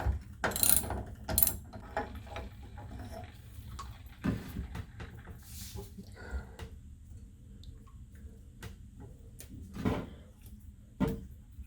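Ratcheting, gritty mechanical clicks come as the stem of an IKEA bath faucet is turned counterclockwise to remove it, with scattered knocks and scrapes, fairly quiet and close.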